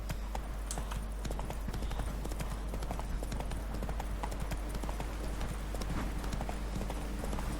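Horse hooves clip-clop in a fast, continuous galloping rhythm throughout a stretch of The Witcher 3 gameplay, loud and steady over a low constant hum.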